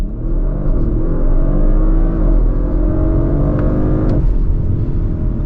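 An Audi RS4 doing a launch-control start on a racetrack: a loud, close engine roar climbing steadily in pitch, with a brief dip at a gear change near the end, and no talk.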